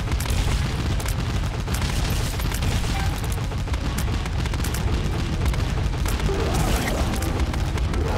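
Dense, rapid booms and blasts of video game explosions during a boss fight in The Binding of Isaac pile up continuously, loud and chaotic, with faint gunfire-like crackle mixed in.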